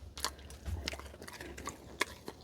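Maverick, a dog, crunching on treats up close, a few sharp bites and moist chewing sounds scattered over a couple of seconds against a quiet room with a low hum.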